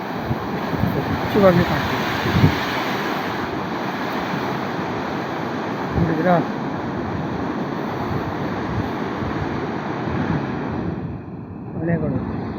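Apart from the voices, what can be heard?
morning ocean waves breaking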